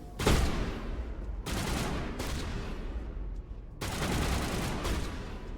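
Gunfire in Mass Effect Legendary Edition, loud bursts of shots in quick succession with short gaps between volleys, dense and close throughout.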